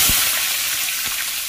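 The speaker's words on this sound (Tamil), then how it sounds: "சின்ன வெங்காயத்தை நல்லா வதக்கிக்கணும்" Small shallots frying in hot oil with mustard seeds, lentils and dried red chillies for a drumstick kootu, giving a steady close hiss with two brief stirring knocks.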